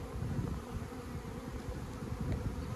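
Honeybees flying around a beehive on their first flying day in weeks, a close, steady low buzzing hum of many wings that carries on without a break and with no voices.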